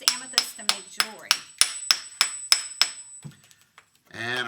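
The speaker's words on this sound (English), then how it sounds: "while he's breaking that geode open" A hammer strikes a geode on a table about ten times in a steady, sharp rhythm, each blow a bright close crack, followed by a quieter pause and a voice starting at the end.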